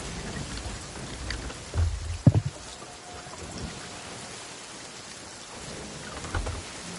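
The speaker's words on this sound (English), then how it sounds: "Ooh, see? There's that storm." Stormy weather at sea in the pirate game Sea of Thieves: steady rain hisses throughout while a low thunder rumble swells briefly in the middle, moderately quiet and spread wide.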